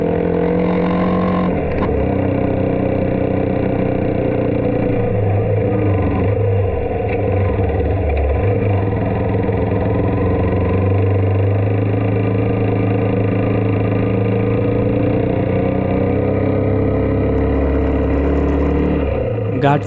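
A motorbike climbs a winding ghat road, its engine droning steadily and shifting pitch as it changes gears, with a voice talking over it throughout.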